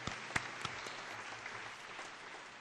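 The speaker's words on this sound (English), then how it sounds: "give yourself a big round of applause" An audience at an evening student showcase event applauding, a steady dense patter of many hands clapping at moderate distance, fairly soft and continuous with a few sharper nearby claps, and no talking over it.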